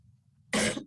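A single short, sharp cough bursts out close by after a moment of quiet low murmur during a town board meeting.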